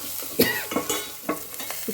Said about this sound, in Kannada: ಫ್ರೈ ಆಗ್ತೈತೆ ನೋಡಿ ಒಗ್ಗರಣೆ.